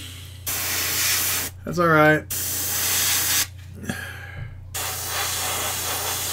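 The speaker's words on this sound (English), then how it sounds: "I like spraying paint." A paint spray gun hisses in long steady bursts, loud and close, with short breaks between passes and someone speaking briefly in one gap.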